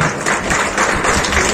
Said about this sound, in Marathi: एकदा प्रकाशजीसाठी जोरदार टाळ्या झाल्या पाहिजेत